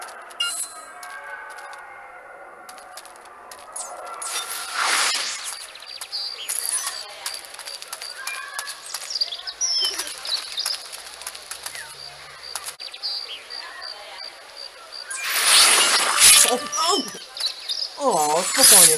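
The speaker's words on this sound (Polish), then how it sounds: "O nie, kolejny kruk." Raven wings flapping in Assassin's Creed: Identity, short bursts of feathery flutter near the middle and end, with talking and game ambience throughout.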